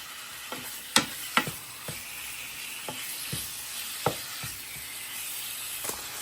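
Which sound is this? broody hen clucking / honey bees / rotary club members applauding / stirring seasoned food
stirring seasoned food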